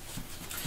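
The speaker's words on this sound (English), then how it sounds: "I love how the dog's going to be on the video." A dog panting in short quick breaths, faint and brief, with a slight whimpering quality.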